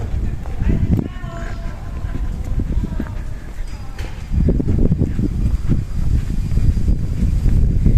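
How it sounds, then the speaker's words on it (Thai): A cool breeze blows outdoors on a walk home, making a steady low rumble across the microphone that swells louder partway through, with a voice heard now and then. "สายลมพัดมาแบบเย็นสบายมากๆ เลยค่ะ"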